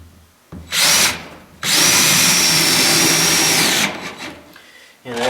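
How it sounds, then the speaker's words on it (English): A power drill drives screws into a seam with two loud bursts: a short spin, then a longer steady whir. Quiet gaps and a start of another burst frame them, with no speech. "So I'm just going to screw them in."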